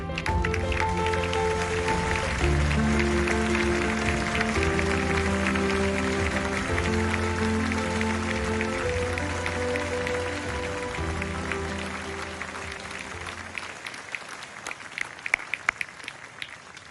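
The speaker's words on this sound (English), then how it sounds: "And one final round of applause to all of tonight's honorees." An audience applauds the honorees at the Zayed Award for Human Fraternity ceremony, steady clapping carrying on under loud sustained music, then thinning to scattered claps near the end.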